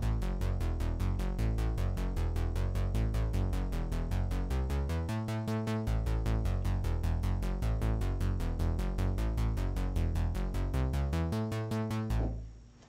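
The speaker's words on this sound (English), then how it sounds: "So the synth bass on the chorus sounds like this." Synth bass plays the chorus part of a song in a steady, driving stream of rapid repeated notes, even and continuous with small pitch changes, fairly quiet and alone, ending abruptly.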